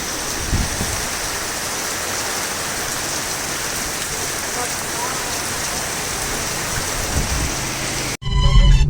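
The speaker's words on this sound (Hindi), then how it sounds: "गिरने लगा है पानी" Steady outdoor rain falls as a dense, even hiss for about eight seconds, with a few heavier spatters, before a sudden louder burst of nearby sound at the very end.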